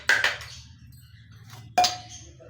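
A metal spoon clinks against a cooking pan while adding homemade ginger, garlic and green chilli paste. Two bright, close taps about two seconds apart, each ringing briefly, with a faint scrape between them.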